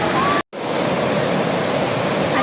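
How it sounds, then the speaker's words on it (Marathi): Strong water roars at a waterfall, a loud, dense, unbroken rush close by, with a brief cut near the start. "आणि हा पाण्याचा फ्लो बघा किती आहे."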